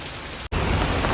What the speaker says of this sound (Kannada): ಭಾಳ ಕೆಟ್ಟ ಮಳೆ ಆಗತ್ತೆ ರೀ.